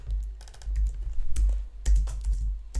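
Someone types on a computer keyboard while building a project proposal page in the Webflow CMS. Close, irregular bursts of crisp keystrokes run throughout with no speech.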